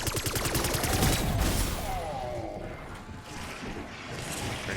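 Rapid bursts of Call of Duty gunfire crack out at the start, then fade into scattered shots and game noise, loud and close with no talking.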